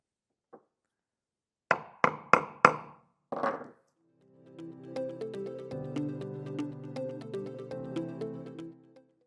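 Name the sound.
lightly tapping and screwing a screw into wood for pilot holes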